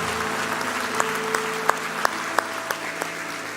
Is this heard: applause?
yes